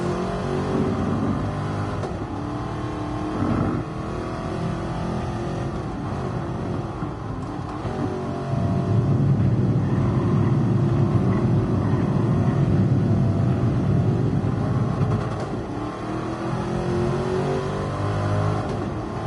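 Mercedes-AMG Black Series race car driven around the Nürburgring in a racing game, its engine a continuous loud roar rising and falling through revs and gear changes, with no talking.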